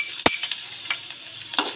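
Garlic sautéing in hot oil in a pan for Bicolano-style igado, a soft steady sizzle broken by several light clinks of a utensil stirring against the pan.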